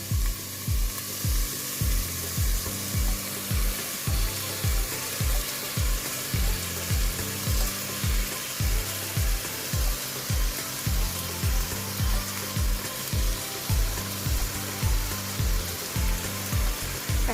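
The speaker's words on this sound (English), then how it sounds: "let's roast our rice as well in this little bit. So since we are using basmati rice here, we need to roast it well" Basmati rice roasts in a little oil with garlic, ginger and vegetables, giving a steady close sizzle broken by regular rhythmic stirring scrapes, with no voices.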